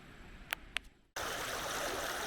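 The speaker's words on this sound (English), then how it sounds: "That's the creek running in just beyond my site." Creek water runs over a riffle beside a campsite. After a quiet second with two sharp clicks, a steady, close, broadband rush of flowing water starts suddenly and continues evenly.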